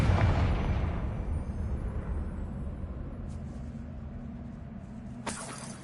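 A Confringo spell in Hogwarts Legacy explodes as a deep rumbling boom that fades away, with a sharp crackle near the end.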